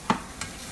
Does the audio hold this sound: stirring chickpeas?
yes